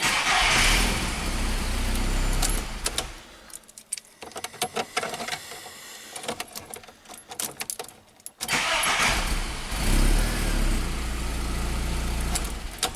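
Renault Megane 2 car engine, after repair following a crash, starting and then running; a loud broadband engine sound fills the start and end, with a quieter section of clicks and jangling between.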